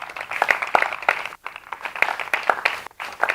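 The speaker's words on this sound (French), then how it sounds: "On peut l'applaudir, s'il vous plaît." A studio audience at a TV challenge show claps steadily for a sponsor, a dense, close patter of hands that briefly drops out twice before resuming.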